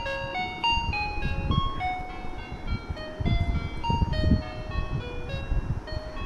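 Electronic melody plays from a children's musical book, a bright tinkling tune with steady sustained notes and a light rhythmic backing, fairly close and continuous throughout.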